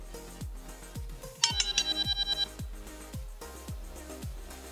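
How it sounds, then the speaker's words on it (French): A rapid series of high electronic low-battery warning beeps from a Hubsan H501A X4 Air Pro drone sounds once in the middle, over a steady background with repeated low thumps. "Le bruit que vous entendez là, c'est une indication de batterie faible"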